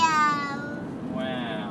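A child imitates a cat's meow, a single drawn-out high vocal cry that slides downward and then trails into a softer second tone, close and clear with faint background hiss.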